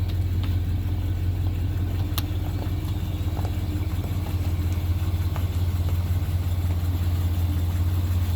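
A 1976 Plymouth Volare idles quietly with a steady, low, even hum throughout, heard close and alone with no talking.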